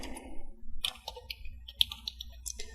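Java code being typed on a computer keyboard, with quick, light, irregular key clicks in short bursts, close and fairly quiet, with no talk.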